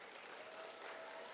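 Faint, distant applause from a school assembly audience at an elementary awards ceremony, a steady wash of clapping throughout.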